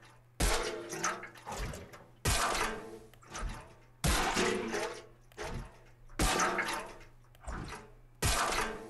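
Fortnite pickaxe with a water-crate design, swung in the game for a series of splashy, crashing impacts about every two seconds, loud and repeated over a low steady hum.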